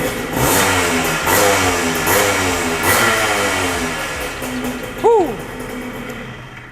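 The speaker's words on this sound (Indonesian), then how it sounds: "Suara mesinnya itu 125 cc." A restored Yamaha DT 125 motorcycle engine revs in repeated throttle bursts, loud and close, then a sharp rising-falling whine near the end before it settles.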